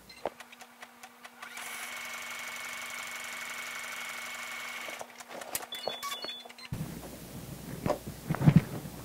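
An embroidery sewing machine stitches a satin stitch while piecing a Victorian crazy quilt block in the hoop, running as a steady, even mechanical whir for a few seconds before stopping, followed by scattered handling clicks and knocks.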